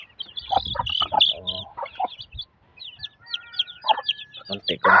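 Small chicks chirp in high, rapid peeps mixed with lower clucking from nearby chickens, close and lively in an outdoor farm setting.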